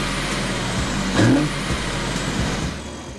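BMW G80 M3 or G82 M4 engine fitted with a Burger Motorsports performance intake with 3.5-inch tubing and inverted cone filters, a loud steady exhaust drone that swells briefly mid-clip, close by.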